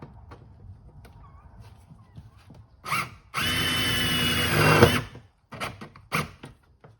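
A power drill drives a self-tapping screw in one sustained whir of about a second and a half, preceded and followed by short tool bursts and handling clicks in a quiet space.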